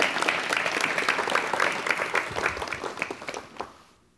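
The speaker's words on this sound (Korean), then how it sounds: "우리 이만갑 교수님 박수로 맞이해 주시면 대단히 고맙겠습니다." A television studio audience in 1986 Korea applauds to welcome a professor, dense even clapping at full strength that thins and fades out in the final half second.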